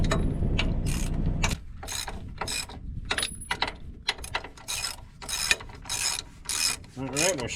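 Fine-thread bolts on a roller rack being tightened with a wrench and cheater bar: repeated ratcheting clicks and metallic rasps in short irregular bursts, close and fairly loud, with no talking.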